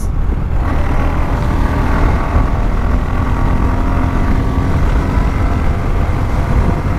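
A Suzuki Gixxer SF motorcycle being ridden, with steady engine drone and broadband road and wind rush that stays loud and continuous throughout, close to the rider.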